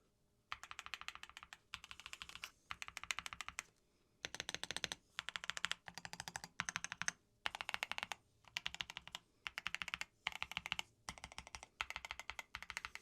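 Typing on a Higround Basecamp 96 keyboard with solid keycaps: steady bursts of crisp, close keystrokes in rapid clatter, separated by brief pauses, with no talking.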